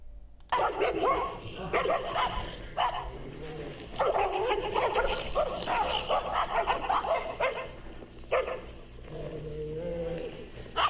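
A King Charles dog barks repeatedly at other dogs in close, sharp bursts, with yips and whimpers between the barks and a pause before a final flurry.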